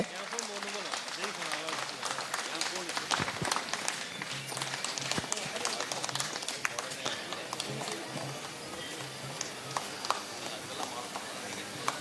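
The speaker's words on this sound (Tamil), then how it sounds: "கைத்தட்டல், பலமா கைத்தட்டல் கொடுங்க" An audience claps for mallar kambam pole performers at a Kshatriya Academy show in Puducherry, a dense, steady patter of applause under an announcer's voice.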